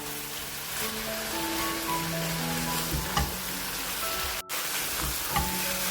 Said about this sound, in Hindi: तो हम अच्छी तरह भूनेंगे कीमे को